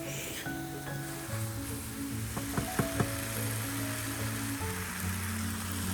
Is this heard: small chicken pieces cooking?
yes